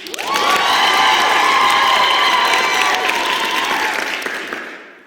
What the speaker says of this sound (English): And now clap for me who sang that song.